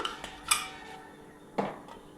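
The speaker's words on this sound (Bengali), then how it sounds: "এবার আমি এর মধ্যে লিডটা লাগাবো" A pressure cooker lid is set and fitted onto the pot over a mutton kosha, giving two sharp metallic clinks about a second apart, close and moderately loud, with faint kitchen noise between them.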